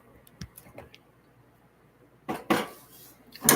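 Lentil soup ingredients being stirred in a pot, a few light clinks early on, then scraping spoon strokes and a sharp knock near the end, close by and intermittent, with no talking.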